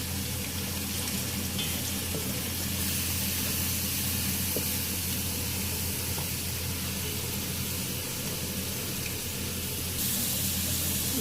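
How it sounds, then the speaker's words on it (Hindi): Onions frying in hot oil until brown for Shadi-style degi chicken korma: a steady, continuous sizzling hiss, close and even throughout with no talk. "यहाँ पे मैं ब्राउन होने तक प्याज को तलूँगी"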